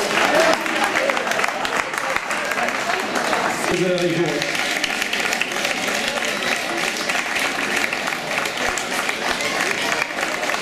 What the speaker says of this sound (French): Il attend les applaudissements.